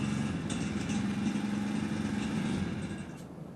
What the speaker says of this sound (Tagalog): Umaandar pa ang ating motor.